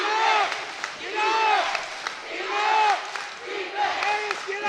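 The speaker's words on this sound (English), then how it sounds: "Crowd getting behind the Knights here." High school varsity basketball crowd in a gym cheering and yelling for the home team in a tight game, loud rising and falling waves of voices that swell and fade several times.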